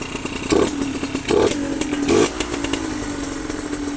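A Suzuki RMX motorcycle engine idles steadily and close by, with a buzzing two-stroke drone and a few brief revs that swell and then settle back to idle.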